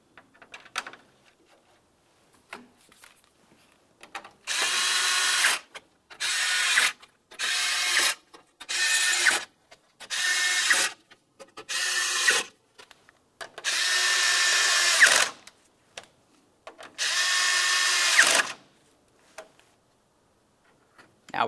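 A power drill drives eight 5.5mm mounting screws into the front of a Ford Flex grille, sounding in repeated whirring bursts of a second or two, separated by short silences, close and fairly loud.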